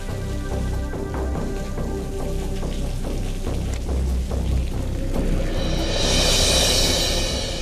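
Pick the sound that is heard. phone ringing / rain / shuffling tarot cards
rain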